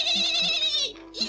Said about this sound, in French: Hennit soudain le cheval